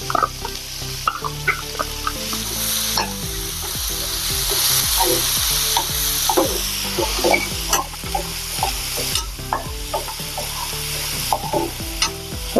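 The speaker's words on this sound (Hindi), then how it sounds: "इसको भी थोड़ी देर हम भूनेंगे कलर चेंज होने तक" Ground masala spices roast in a hot pan for a koodru and chana dal dish, with a steady sizzle under repeated scraping and clinking of a spoon stirring against the metal.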